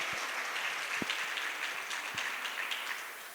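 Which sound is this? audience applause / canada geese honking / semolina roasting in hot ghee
audience applause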